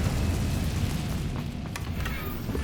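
Incendio fire spell in Hogwarts Legacy: a dense, steady roar of flames with low booming rumble and a few sharp crackling flickers, close and continuous throughout.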